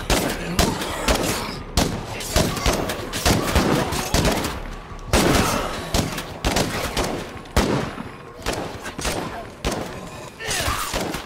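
Concentrated gunfire in the State of Decay 2 video game: dense, rapid volleys of shots crack and thud continuously for about eleven seconds, loud and close, with brief gaps between bursts.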